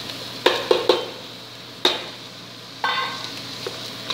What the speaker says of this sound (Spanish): Ahora que se fría la cebolla.